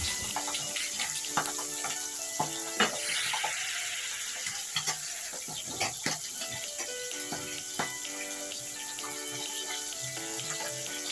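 Food fries lightly in oil with a steady background sizzle. Scattered clinks and taps of utensils come through at intervals, close and moderately quiet.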